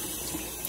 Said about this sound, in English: she's going to rinse the strawberries now